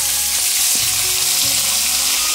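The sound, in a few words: fish frying in oil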